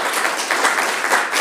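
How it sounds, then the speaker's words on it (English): An audience claps for students at the close of a spring 2017 education focus group, a brief burst of even, steady applause that is loud and fairly close, with no talk. "Let's hear a round of applause"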